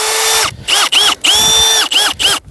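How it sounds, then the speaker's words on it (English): Close, loud power drill boring out sheep wool packed tightly into a coyote trap set on Midwest farmland, running in several short bursts that whine up in pitch as the motor spins and drop off between pulls of the trigger. "I think I'm gonna drill that out"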